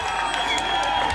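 College fresher party audience giving a brief burst of applause and cheers to welcome a performer onto the stage, steady and moderately loud.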